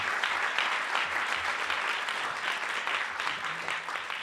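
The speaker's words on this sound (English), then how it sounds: "please offer National Press Club round of applause to our speaker, Secretary of Agriculture" A luncheon audience at the National Press Club applauds the speaker, U.S. Secretary of Agriculture Sonny Perdue, with dense, sustained clapping from a crowd that stays steady throughout.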